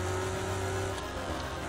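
Race cars in Wreckfest roar with a steady, loud engine drone, its pitch shifting partway through as they run together, without any talking.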